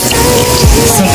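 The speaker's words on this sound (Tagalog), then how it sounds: "first, mag-iisa tayo ng bawang" Garlic sizzles in hot oil in a pan, a steady dense crackle and hiss heard close and loud for a brief moment.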